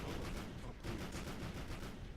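Spaceship cannons fire in Sins of a Solar Empire: Rebellion, a dense, continuous rumbling barrage of overlapping blasts, faint and muffled, with no pauses.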